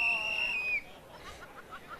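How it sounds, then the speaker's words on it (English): Starter's whistle at a state relay championship in athletics: a single shrill, steady blast that wavers and drops in pitch before cutting off, followed by faint crowd murmur in a large outdoor venue. "Does sound like the starters' whistles had enough already"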